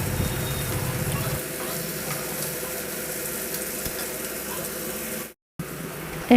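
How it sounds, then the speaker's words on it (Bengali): Fish frying in a pan, a moderate continuous sizzle heard up close, with a low rumble early on and a short silent break near the end, and no speech. "আর এখানে মাছগুলো ভাজছি"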